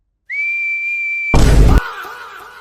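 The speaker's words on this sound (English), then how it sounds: "I'm learning to whistle, but I can't do it yet" A Peppa Pig cartoon character whistles one long steady note. A loud bang and rumble then cut in, and quieter noise trails off.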